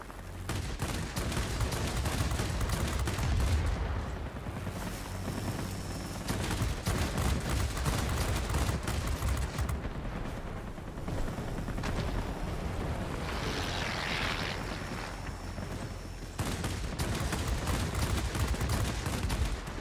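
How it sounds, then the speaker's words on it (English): Aircraft cannon fire from a Soviet Yak-3T fighter in the World of Warplanes air-combat game, a dense, continuous rattle of rapid shots over steady engine roar, loud and sustained throughout with no pauses. "the closer in you are with these cannons, the better"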